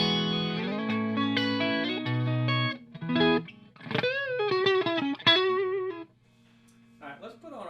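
An electric guitar plays melodic sustained notes and bends through V40 and V30 speakers, with a fat, slightly wet tone, ending in a quieter low held note.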